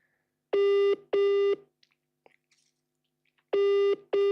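Phone call going unanswered: paired ringback tones sound, two long beeps, a gap of about two seconds, then two more, clear and close with faint incidental noise between.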